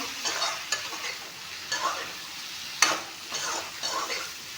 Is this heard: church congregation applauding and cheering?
no